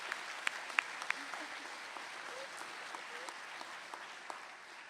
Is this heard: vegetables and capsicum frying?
no